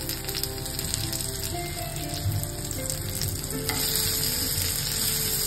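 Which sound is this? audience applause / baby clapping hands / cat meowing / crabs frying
crabs frying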